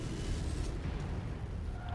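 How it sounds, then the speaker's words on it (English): A deep, rumbling mech ammunition explosion in MechWarrior 5: Mercenaries, a steady low roar of blast and debris filling the short moment with no clear attack, loud and close. "Ammo explosion detected"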